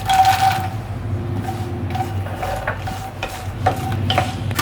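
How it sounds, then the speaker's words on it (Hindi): Makhana (fox nuts) frying in melted ghee in a pan, a steady close sizzle with a low rumble of heat and scattered light scrapes and clinks of a spatula, no talk. "इसमें मैं ये मखाना तल के निकाल लूँगी"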